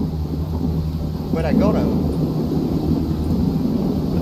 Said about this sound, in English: Did I die to rain?